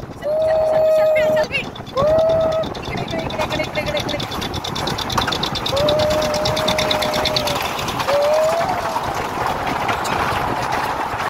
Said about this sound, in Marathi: हिला टॉय ट्रेन म्हणतात.